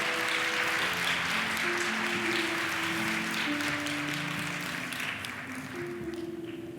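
Church congregation at a Wednesday morning women's worship service applauding to welcome a pastor, a dense, steady wash of clapping from many hands filling the room, with a sustained organ or keyboard tone underneath that fades slightly toward the end.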